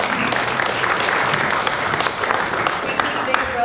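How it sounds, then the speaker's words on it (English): A crowd applauds with steady, dense clapping that holds at an even level from start to finish. "Round of applause again for Mr. Paul Hirschman."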